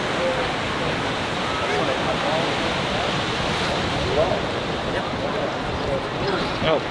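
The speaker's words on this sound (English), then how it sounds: "A little windy here, folks." Onshore wind buffeting a microphone on the deck of a Pyrmont to Manly ferry, a steady loud broadband roar that runs throughout the whole clip with no voices.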